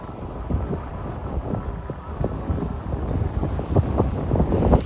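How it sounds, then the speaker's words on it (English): Gusty wind on a beach in La Cala de Mijas, Spain, buffets the microphone in loud, uneven low thumps and rumbles, with faint surf hiss behind it and no talking. "I hope you can hear me okay here because it's quite windy on the beach"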